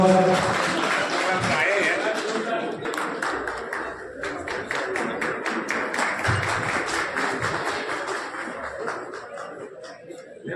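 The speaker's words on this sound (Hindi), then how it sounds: "अब मैं मंच पर गए हैं एक बार जोरदार तालियों से एक बार" An audience at a Lions Club award ceremony in Sujangarh claps in a loose, rapid patter that builds after a few seconds and then gradually thins out, with voices and scattered chuckles mixed in.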